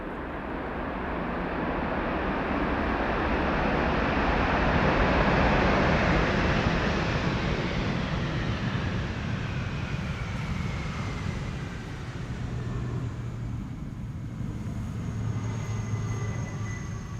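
Airliner touching down at Amsterdam Schiphol in gusty wind, engines roaring loud and broad as thrust reversers build, then slowly easing off into a long fading rumble with a faint whine above it.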